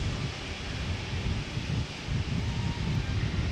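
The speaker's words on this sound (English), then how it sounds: "It's very windy out here." Strong wind buffets an outdoor microphone beside an airport bank, a steady low roar with gusty surges throughout and no talking.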